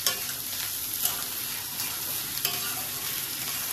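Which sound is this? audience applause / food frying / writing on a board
food frying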